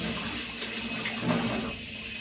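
A kitchen tap runs steadily with strong force, splashing while glasses and pots are washed. The rush is constant and fairly faint, with no talk.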